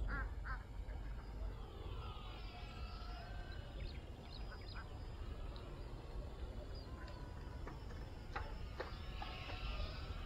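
A flock of ducks quacking at a distance, with repeated nasal calls scattered over a faint, steady outdoor background hum.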